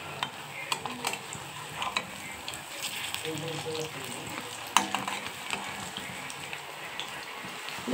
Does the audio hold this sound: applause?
no